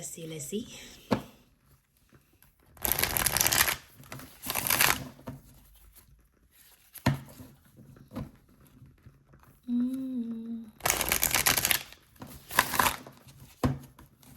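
Card decks being shuffled and cards drawn for a reading, several short bursts of crisp riffling and flicking close by, with someone speaking between them.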